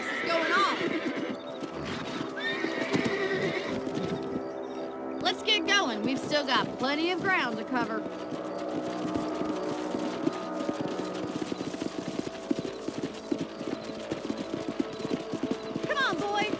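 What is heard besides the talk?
horses galloping and neighing, from a video game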